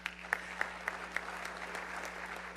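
Audience applause at an award ceremony, a moderate crowd clapping steadily in a large room with a few sharper individual claps standing out, over a low constant hum.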